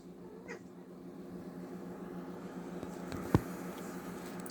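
Kiki the cat gives a faint, brief meow, followed later by a soft sharp sound, over a low steady room hum.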